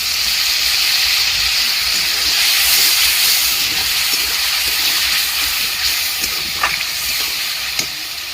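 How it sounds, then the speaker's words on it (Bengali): Water poured into a hot pan of potato curry, a loud sustained hiss and sizzle that holds steady for several seconds, close up with no talk. "জল দিয়ে দিচ্ছি"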